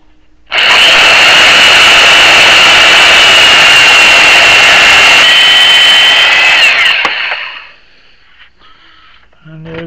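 A power cutting tool slices off a stuck hydraulic cylinder pin on a Case 580 backhoe, giving a loud, steady high-pitched whine for about seven seconds before it winds down to quieter workshop sounds.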